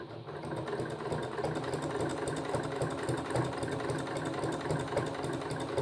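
Sewing machine topstitching a turned cloth menstrual pad, a steady close mechanical whir and rapid needle chatter running continuously without pause.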